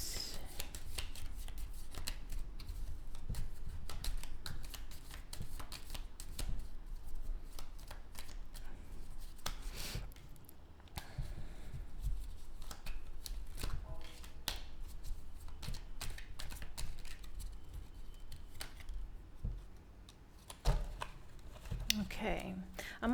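A deck of tarot cards being shuffled by hand, a steady close rustle of riffling and sliding cards that continues throughout with short breaks.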